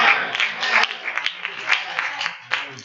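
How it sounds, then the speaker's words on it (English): Part of a church congregation claps in quick uneven bursts, close and fairly loud, with voices talking in among the claps. "I got half the church clapping"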